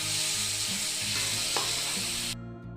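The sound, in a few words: spices frying in oil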